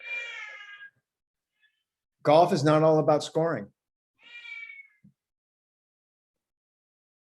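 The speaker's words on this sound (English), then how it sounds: "Wow, that is one hell of a meow." A pet cat gives several loud, drawn-out meows indoors, one short call, then a longer strained one, then a softer final meow, with silence between and someone speaking briefly.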